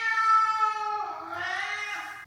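A house cat gives one drawn-out, clear meow that shifts pitch midway, close and prominent in a quiet indoor room during a morning of packing for a move.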